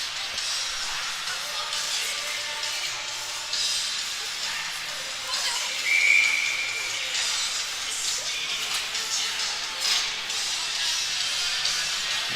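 A referee blows a short, sharp whistle midway through play at a U15 major ice hockey game, standing out briefly over the steady hiss and murmur of the arena.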